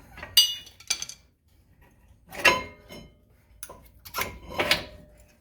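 Metal screwdriver prying at a rear brake pad and caliper on a 2006-10 Ford Explorer, giving a few short, sharp metallic clinks and scrapes spaced apart with quiet gaps between, close by and moderately loud.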